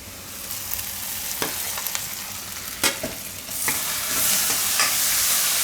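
Corn tipped into a hot pan of spices such as coriander and cumin powder sizzles steadily, with several sharp clacks of a spoon and stirring scrapes, and the frying hiss swells louder toward the end.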